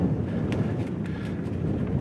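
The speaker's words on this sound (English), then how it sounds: "you can see it's a bit windy here" Wind blows steadily across an outdoor terrace at an oceanfront resort, a continuous low rushing buffet on the microphone with no clear gusts, fairly loud and unbroken.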